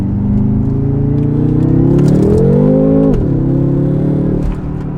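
BMW M5 engine coded to mimic a Rolls Royce V12, revving loud and close with a rising then falling drone that holds steady throughout.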